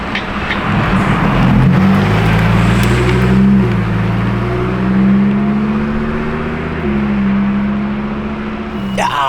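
Lamborghini STO engine, a loud nearby drone that rises and steps through revs with a whirring edge before fading near the end, heard outside on a street.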